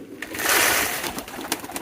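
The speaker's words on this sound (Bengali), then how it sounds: "আমি প্রথমে কবুতরকে খাবার দিয়ে ফেলি" Pigeons cooing and stirring as they are fed grain, a dense, close rush of soft coos and fluttering that swells mid-way, with a few sharper flaps near the end.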